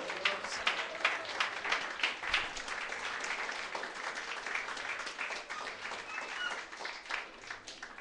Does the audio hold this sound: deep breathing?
no